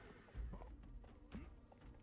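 A horse in a survival hunting video game whinnies with a short neigh and hoof clip-clops, fairly quiet and close, brief bursts over a low background.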